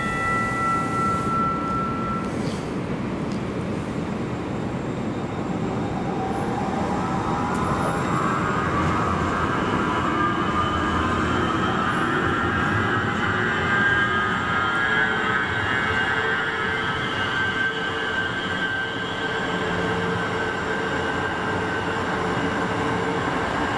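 A MAX light rail train moves along the Portland transit mall, a steady rumbling roll with a rising whine running continuously and fairly close for the whole stretch.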